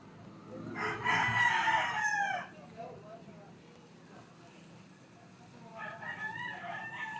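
A chicken crows and clucks nearby in a loud burst, then quieter clucking follows after a pause, with faint background noise throughout.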